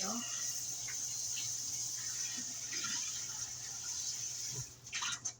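Tap water runs steadily while a pan is washed in a kitchen sink, a continuous hissing stream with small clatters near the end as the flow stops.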